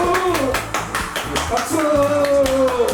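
Crowd celebrating the Yoon Suk-yeol impeachment ruling claps in fast rhythmic unison, loud and close, mixed with shouting voices and background music.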